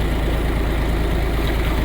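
A Ghazi tractor engine runs at a steady idle to pump water for irrigating a village field, giving a continuous low rumble that stays close and even throughout with no talk.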